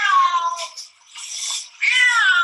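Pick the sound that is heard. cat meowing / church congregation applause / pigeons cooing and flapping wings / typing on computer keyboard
cat meowing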